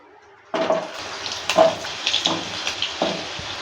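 Cut potatoes dropped into hot mustard oil in a pan for a kakrol and potato curry, giving a sudden loud sizzle followed by steady hissing crackle with a few louder bursts, alone without talk.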